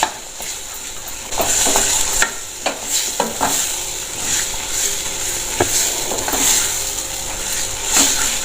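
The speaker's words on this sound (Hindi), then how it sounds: "अब आटे को भी डाल के हम इस तरह से 2-3 मिनट के लिए भून लेते हैं" Flour and spices roasting in a pan for mustard greens, a close sizzle with repeated scrapes and clinks of a spoon stirring against the pan, no talk.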